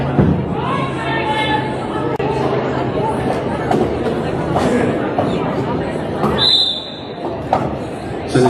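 A good-sized crowd in the stands at a roller derby bout between SSRD and Eastvic keeps up a steady loud babble of chatter, with scattered thuds and a brief whistle-like tone, and a voice talking over it.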